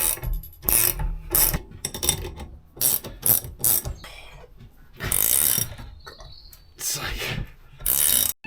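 A socket wrench ratchets on an Isuzu pickup leaf spring in repeated bursts of rapid clicking, close and fairly loud, separated by short pauses.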